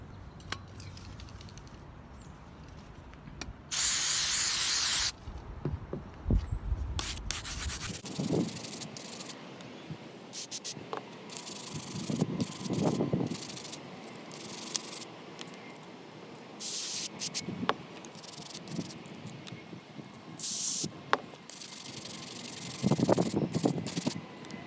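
Mass air flow sensor cleaner is sprayed in a short, loud hissing burst onto a Nintendo 64 console, followed by quieter intermittent scrubbing and brushing strokes with a few more brief spray bursts.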